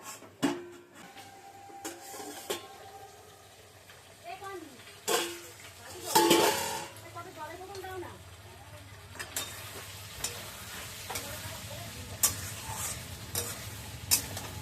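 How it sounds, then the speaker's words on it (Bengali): Spice masala with a little sugar being stir-fried in a pan for a mukhi kochur dum (taro) curry: intermittent scraping and stirring strokes over a low sizzle, with a few louder clanks of the utensil against the pan. "মশলাটা কষবে এখন, মশলাটার সাথে একটু চিনিও দিয়ে দিলাম"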